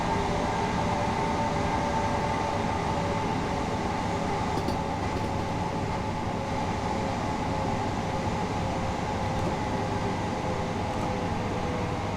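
A video-game train runs steadily from Seaford to Brighton with a continuous low rumble and hum, unchanging throughout, with no voices.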